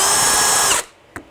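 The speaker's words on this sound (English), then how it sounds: "you simply want to drill all the way through" A power drill whines loud and close as it bores through a plastic mouth guard held in a jig, then cuts off abruptly, followed by one short click.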